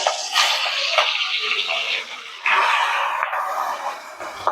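Giant freshwater prawns (golda chingri), rubbed with salt and turmeric, fry in hot oil with a loud, steady sizzle close by, surging briefly partway through.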